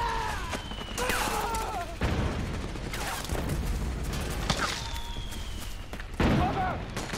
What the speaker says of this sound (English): Suppressing fire! Move!